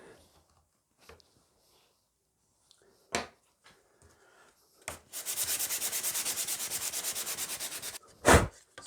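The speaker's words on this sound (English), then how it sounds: "Sand all that pencil off." Sandpaper rubs pencil marks off a wooden piece in a workshop, a few light scuffs and taps first, then a steady run of rapid back-and-forth strokes, close and moderately loud, ending with one sharp knock.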